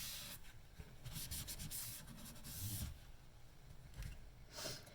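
A Spyderco knife in CPM REX45 steel is sharpened free-hand on a stone, with quiet, close, rhythmic rasping strokes back and forth, soft and gritty, with no talking.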